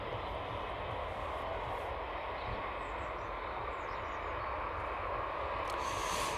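A Ryanair jet departs East Midlands Airport in the evening, its engines a steady, loud broadband roar that holds throughout and swells slightly toward the end.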